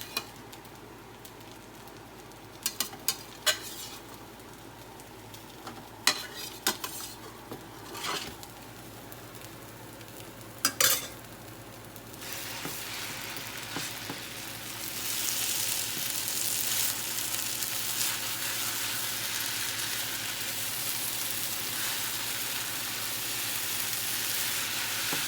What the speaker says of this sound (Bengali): এবার আমি চিকেন আর ডিমটা মিশিয়ে দেব।